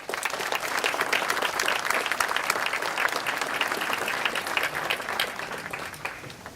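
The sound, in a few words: audience applause at infrastructure forum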